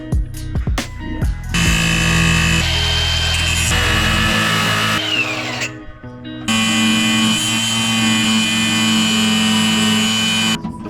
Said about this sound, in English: I have my angle grinder here